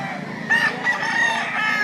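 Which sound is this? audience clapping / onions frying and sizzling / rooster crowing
rooster crowing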